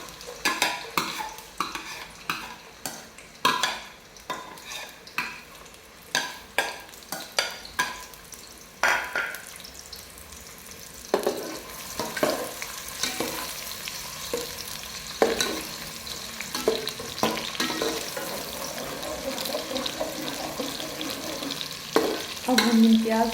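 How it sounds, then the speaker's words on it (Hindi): Chopped onions frying in hot oil for a goat trotter paya curry, with constant sizzling and frequent sharp clatters of a spoon stirred against the pot; close, busy and loud, thickening into a denser sizzle later on. "अब हम इसमें ऐड करेंगे प्याज।"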